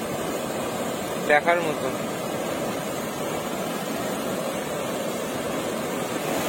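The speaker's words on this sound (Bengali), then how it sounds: "বরন্তী লেকের পাশে এই যে ড্যাম মতো করা রয়েছে, এখান দিয়ে যে জল ছাড়ছে" Water released through a dam beside Baranti Lake roars as a steady, dense rush that fills the whole stretch, with a brief spoken phrase near the start.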